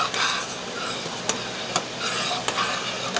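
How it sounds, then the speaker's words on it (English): Black currant jelly with a little butter at a rolling boil, stirred steadily: a continuous bubbling hiss with a few sharp spoon knocks against the pot, close and fairly quiet, no talk. "That is a true rolling boil."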